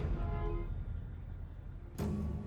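A low rumbling vehicle drone with sustained horn tones early on and a louder horn blast near the end, sounding in the background of a strategy video game.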